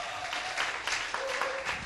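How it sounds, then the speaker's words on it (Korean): A studio audience claps to welcome a startup mentor onto a Korean talk show, a steady, even wash of applause with a few sharper claps standing out, moderately distant and with no talking. "박수 한번 주세요"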